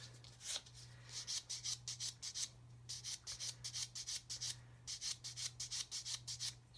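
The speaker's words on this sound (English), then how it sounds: "You can see the Mr. Surfacer is rubbing down lovely" A sanding stick rubs down Mr. Surfacer primer on a 1/32 Airfix plastic model, a quiet, close, rhythmic rasping of quick back-and-forth strokes in steady bursts over a low electrical hum.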